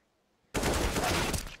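Rapid automatic M4 rifle fire in a Counter-Strike match on the Inferno map starts abruptly after a brief quiet and rattles on as a loud, continuous burst.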